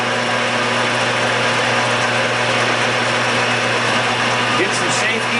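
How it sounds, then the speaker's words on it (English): Lathe running as it warms up, a loud continuous mechanical drone with a steady hum and a faint rattle, unchanging throughout. "get this lathe warming up."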